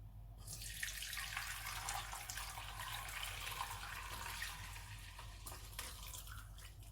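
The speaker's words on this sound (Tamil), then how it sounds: "இதை இப்போ வடிகட்டிடலாம்." Boiled nannari root water is strained out in a kitchen, making a continuous soft pouring and splashing rush that stays fairly faint and steady throughout.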